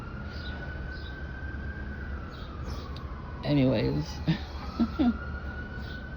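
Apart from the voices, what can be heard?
sirens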